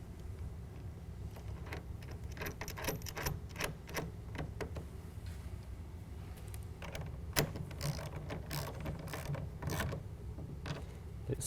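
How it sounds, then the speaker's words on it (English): Ratcheting clamps being tightened on a Bakflip G2 tonneau cover fitted to a pickup bed, giving a steady series of close mechanical clicks and rattles over a low background hum, with no talk. "Get it snug, and then tighten it down."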